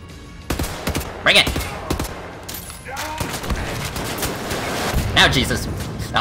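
Rocket explosion and gunfire in Wolfenstein: The New Order, with several loud sharp blasts and bursts spread through the clip over a steady rumbling battle bed, with a voice speaking in between.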